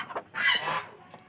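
Fowl on a small farm give a couple of short calls followed by a longer, loud honking squawk close by, then quiet with a faint call at the end.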